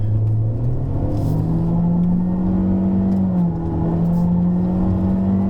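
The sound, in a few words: Honda Civic RS accelerating onto the track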